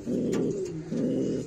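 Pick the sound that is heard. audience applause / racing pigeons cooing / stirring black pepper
racing pigeons cooing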